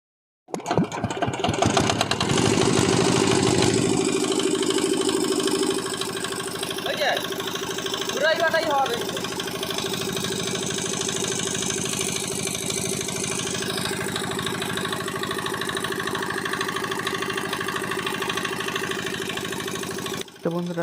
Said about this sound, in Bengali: এখন আমরা ইঞ্জিনটি স্টার্ট করব।